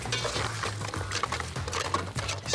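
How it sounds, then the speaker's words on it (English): Chilli mud crab with green and red chilli and basil cooks in a pan, giving a soft sizzle mixed with clattering and scraping of utensils against the cookware, close and moderately loud. "We're just going to let it sizzle away."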